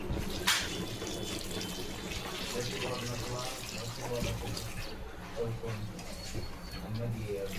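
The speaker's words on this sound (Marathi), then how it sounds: "आपण आता गरम पाणी टाकणार आहोत" Hot water is poured into a pot of mutton curry as it cooks, a steady splashing pour under a constant low kitchen hum, with a voice talking throughout.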